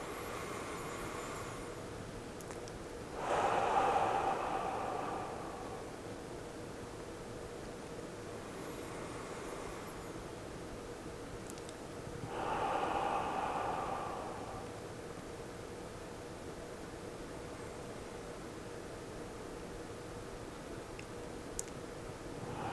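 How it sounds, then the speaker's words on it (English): Slow deep breaths during a guided relaxation exercise, two broad soft swells of air a few seconds long, spaced about nine seconds apart, heard close and alone over a quiet hiss. "We'll take 2 or 3 deep breaths and just focus on the fact that you are breathing."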